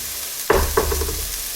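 Vegetables stir-fried in a hot pan with spiralized zucchini, giving a steady close sizzle broken by two sharp scraping stirs early on, then a continuous hiss.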